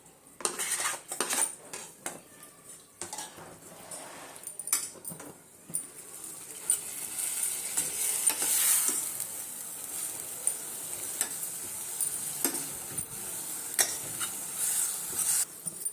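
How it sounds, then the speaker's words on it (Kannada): Sliced tomato tossed into a hot pan and stirred for a vegetable pulao, with a steady sizzle under repeated clinks and scrapes of a metal spoon against the cookware, fairly close and without talk. "ಈಗ ಇದ್ರೊಟ್ಟಿಗೆ ನಾನು ಒಂದು ಟೊಮೊಟೊನ ಉದ್ದುದ್ದಕ್ಕೆ ಹೆಚ್ಚಿಟ್ಕೊಂಡಿದ್ದೆ ಅದು ಸೇರಿಸ್ತಾ ಇದ್ದೀನಿ"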